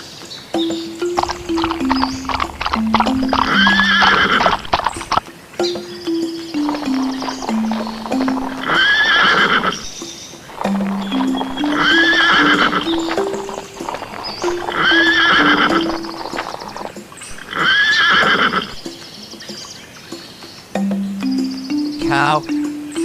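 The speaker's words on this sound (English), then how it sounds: "Horse," Horse neighing in repeated whinnies over a steady clip-clop of hooves, with a looping bouncy melody underneath and brief birdlike chirps in between.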